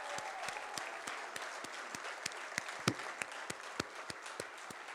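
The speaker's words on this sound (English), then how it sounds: "Let's give them a round of applause." Audience applause fills a ceremony hall at a hall of fame night, a steady dense wash of clapping with a few sharper claps standing out near the front, sustained throughout without any talk.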